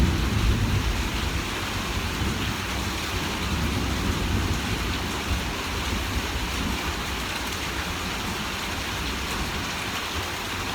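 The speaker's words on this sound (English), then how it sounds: "Just letting you enjoy the sound of the thunder." Steady rain pouring down with rolling thunder during a storm, a constant hiss of drops and a deep rumble that swells early and then settles, heard alone without voices.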